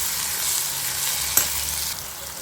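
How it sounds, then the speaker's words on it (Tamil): Onions and green chilies sautéing in a pan for dried fish thokku, giving a continuous loud hiss of frying with one brief sharp clink partway through and no voices. "இப்போ இதையும் சேர்த்து நல்லா வதக்கிக்கணும்"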